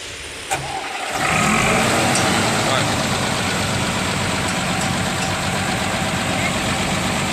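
A bus engine with a fault starts with a clunk and settles into a steady, loud rumbling idle that continues throughout.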